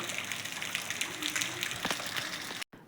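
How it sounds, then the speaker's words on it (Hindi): Heavy rain pours outside onto a concrete roof slab, a steady broadband hiss with scattered louder drops, continuous and fairly close before cutting out abruptly near the end. "बाहर सीधा बारिश गिर रही थी नीचे लेंटर पे"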